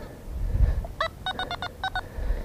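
Metal detector giving a series of clean electronic beeps over a piece of aluminium wire while searching for finds outdoors, a quick burst of short repeated tones over a soft background rumble.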